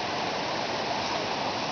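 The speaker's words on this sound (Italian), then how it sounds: "qui c'è là una pianella e là c'è l'acqua, scorre l'acqua, eccola là." A mountain stream beside a forest trail near Cecchetto flows with a steady, even rush of water, constant and moderately close throughout, with no voices.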